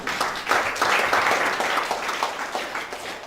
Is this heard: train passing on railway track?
no